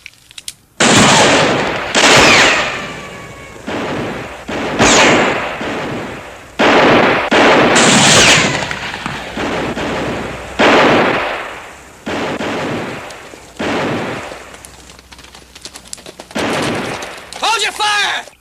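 Loud gunshots crack out in a western shootout, a series of close bursts separated by short gaps, with shouting voices between some of the shots.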